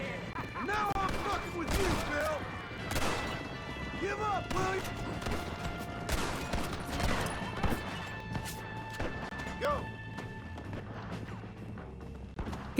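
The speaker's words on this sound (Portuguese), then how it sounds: "Caraca, o tanto de tiro que eu tô dando." Repeated gunfire from a gang's mounted machine gun and other weapons in Red Dead Redemption, set in Blackwater, sounds as sharp bursts over a steady game backdrop with music, continuous across the scene.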